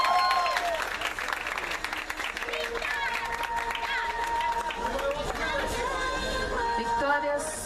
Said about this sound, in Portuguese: Aplausos para a Victoria, pessoal.